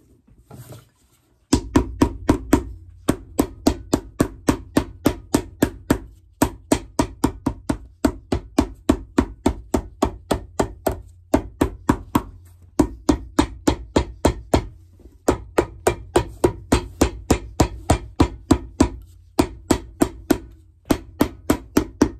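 Steady, rapid hammer blows ring out in long runs while upgrading a pair of Justin boots, each strike sharp and loud, with brief pauses between bursts and no talking.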